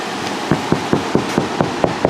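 Knuckles rap on the fiberglass roof of a 2014 Mini Winnie RV, making about eight evenly spaced, close, hollow knocks in a steady rhythm.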